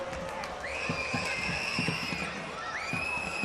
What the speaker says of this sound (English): Hear the Capital City crowd down there going kind of crazy.